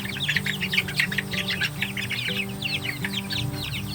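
A flock of one-month-old Betong chicks keeps up constant high cheeping and clucking, many birds at once and close by, over a steady low hum.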